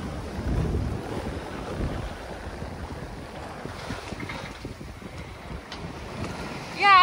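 A sailboat in the Cyclades between Paros and Poros rocks in about 12 knots of wind against a leftover swell, with a rushing wind rumble over the microphone, washing waves and a louder gust burst at the end.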